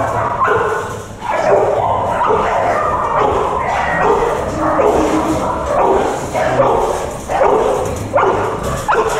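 A kennel full of Jack Russell terriers barks continuously, sharp overlapping barks and yips repeating in irregular bursts, loud and close.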